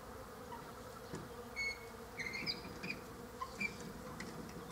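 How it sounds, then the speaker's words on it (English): Bees buzz faintly in short, scattered bursts over a quiet almond orchard, some passing close before drifting off again. "Listen to the bees."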